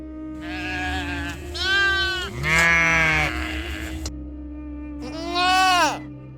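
Sheep and goats bleat in several loud, drawn-out cries, nearby, one after another with short gaps between them, no talking over them.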